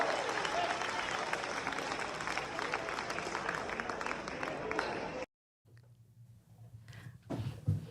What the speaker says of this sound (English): everybody was like clapping and cheering and stuff